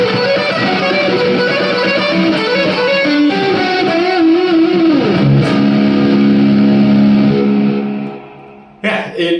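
PRS SE Mark Holcomb signature electric guitar played through reverb, sustained ringing chords with a bending, sliding pitch that decays into a lingering wash, loud and up close with no voices over it.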